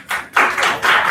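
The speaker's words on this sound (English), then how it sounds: "another round of applause for" Applause from an audience at a tech meet-and-greet event, a dense burst of clapping that swells, dips briefly, then surges again across about a second, loud and close with no speech over it.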